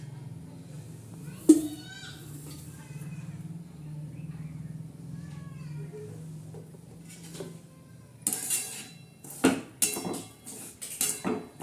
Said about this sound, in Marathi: असा रवा लालसर असा छान असा भाजून घेऊया तर हा रवा आपला भाजतोय